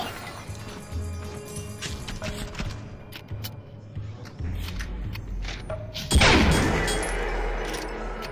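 Pistol fire in The Light Brigade, a series of sharp shots and clanking mechanical clicks, ending in a loud chain-shot explosion with a sweeping boom and a lingering rumble.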